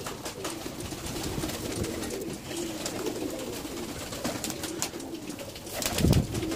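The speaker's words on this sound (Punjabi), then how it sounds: "ਇਹ ਸਾਰੇ ਉਡਾਣ ਵਾਲੇ ਜੀ ਇਹ ਸਭ ਉਡਾਰੀ ਵਾਲਾ ਕਬੂਤਰ" Pigeons in a loft coo steadily and close by, a continuous low murmur of many birds with a louder burst of cooing and wing flutter near the end.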